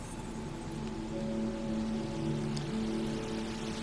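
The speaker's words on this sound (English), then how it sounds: "Getting a little bit of rain." Steady rain hisses in the Jurassic World Evolution dinosaur park, a continuous even wash of drops with faint tonal game ambience underneath.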